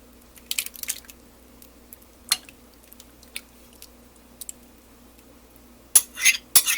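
A tomato mixture with Italian dressing, salt and pepper is poured over chicken, giving soft wet squishes and plops with a few clinks of a utensil against a dish, close and quiet, ending in louder splatting scrapes.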